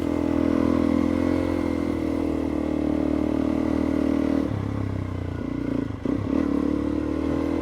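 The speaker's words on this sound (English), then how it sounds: "Doesn't seem to slow the bike down. So second gear, just powering." Suzuki DRZ400E motorcycle loaded with camping gear climbing a hill in second gear, a loud close steady engine drone under load with rattling clatter, dipping briefly near the end before pulling again.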